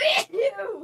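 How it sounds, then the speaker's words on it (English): One quick, breathy sneeze bursts out first, followed at once by a person's short vocal exclamation. "I've been sneezing all day."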